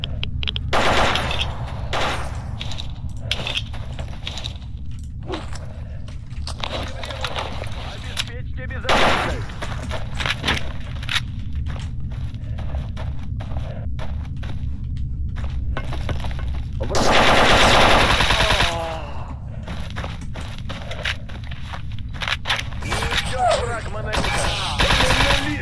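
Gunfire from a weapon in the video game Stalker Anomaly, with repeated sharp shots scattered throughout and a louder dense burst near the end, steady game ambience beneath.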